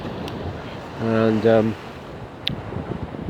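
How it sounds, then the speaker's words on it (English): Steady wind and rolling surf on Cocoa Beach at night with a fair swell, a constant broad roar with microphone buffeting, while a voice briefly speaks over it. "there's quite a bit of swell tonight. It's a little bit windy,"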